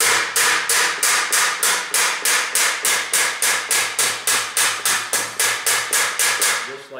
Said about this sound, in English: you can really get whacking on this thing and whack really hard